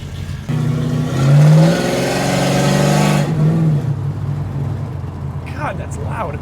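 A 1970 Dodge Charger engine revs hard and loud, rising in pitch, then settles to a rumbling idle, with a voice briefly near the end.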